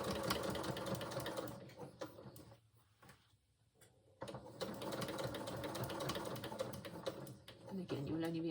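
A sewing machine stitches a zipper into pants in two close runs of rapid, even needle chatter separated by a short quiet pause, with a little talk around it.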